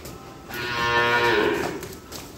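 A bull at a cattle farm, brought up to be weighed, gives one long, loud, close moo that swells and fades over about two seconds, with no talk over it.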